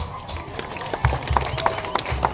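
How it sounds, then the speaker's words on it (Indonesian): An audience at a public speech claps, a moderately loud run of applause with sharp individual claps standing out near the microphone over a background murmur. "Yang kedua kita tepuk tangan kepada pemerintah pusat."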